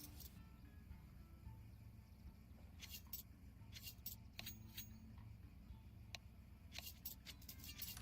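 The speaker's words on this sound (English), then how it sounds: "I hear typing." Sparse keyboard typing at an esports tournament: quiet, irregular clusters of light clicks and taps over a low, steady hall ambience, with no voices.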